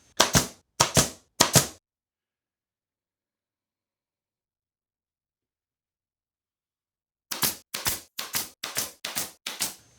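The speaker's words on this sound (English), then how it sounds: "fire in some pins to hold it while the glue dries" A pin nailer fires pins into a glued wood rabbet joint, a quick burst of three sharp clicks followed by a long silence, then a faster run of six snappy shots close to the microphone.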